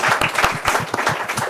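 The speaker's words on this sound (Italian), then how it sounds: "Facciamo un applauso al direttore che sta dando un successone questa sera." A studio audience on a football talk show applauds the director, a short run of close, crisp claps with no voices over them.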